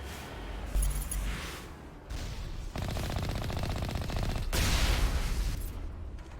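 Sustained gunfire against turrets in the game Mass Effect, moderately loud continuous bursts with short gaps and booming impacts, no talk over it.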